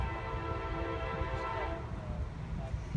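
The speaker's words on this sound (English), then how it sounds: "Here's another train!" A train rumbles past close by at a rail park, heavy low rolling noise with a sustained horn tone sounding over it, loud and continuous throughout.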